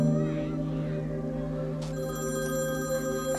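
A telephone rings indoors in a detective melodrama scene: a steady electronic ring with sustained tonal bursts that runs the whole time, fairly loud and close, with no clear talk over it.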